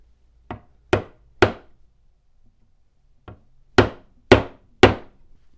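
Chisel tapped with a mallet to spread the slots in wooden stick chair legs for wedges, a run of sharp, close knocks in two groups of three and four with a quiet pause between.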